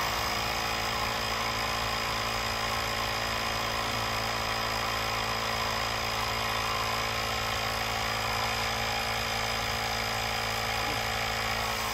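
A Bosch EasyPump cordless electric handheld air pump runs steadily while inflating a tyre, giving a continuous, even motor drone with a constant hum and no breaks.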